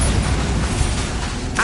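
A Bombarda spell blast in Hogwarts Legacy, a loud low rumbling explosion filling the moment with a short burst near the end, over continuous game noise.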